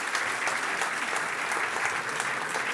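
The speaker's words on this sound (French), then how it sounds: "Merci infiniment et on peut l'applaudir." Audience applause at a live show, dense and sustained clapping from a crowd at steady loudness throughout.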